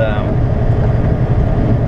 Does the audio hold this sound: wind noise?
yes